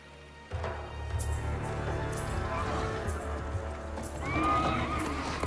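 Horses neighing in the fighting game Mortal Kombat 11, a loud whinny rising over hoof clip-clops and background score, with a voice speaking partway through.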